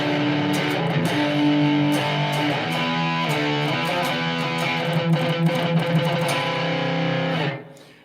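Electric guitar played through a Blackstar HT-5RH studio valve amp with a touch of reverb, sustained chords and picked notes ringing steadily for about seven seconds, then cut off abruptly with a short reverb tail.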